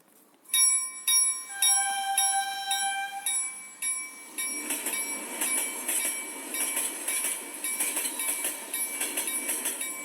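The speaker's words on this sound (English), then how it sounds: "It's a train, right?" A train bell dings repeatedly at first, then the rumbling clatter of a passing train builds and continues steadily.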